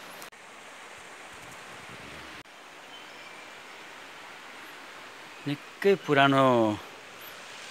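Steady rushing water from the Chudi Khola river, a broad continuous hiss heard close and fairly even, with a person briefly speaking near the end.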